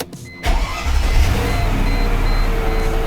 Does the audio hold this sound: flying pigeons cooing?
no